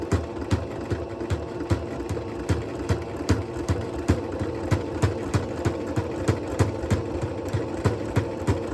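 A sewing machine stitches fabric for a ribbon skirt with a steady, even run of rapid needle clicks and a low motor hum, close and moderately quiet, with no talking.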